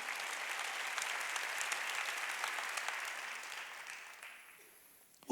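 A church congregation at a Sunday worship service claps together in steady, moderately distant applause that gradually thins and fades out, ending with a sudden close bump.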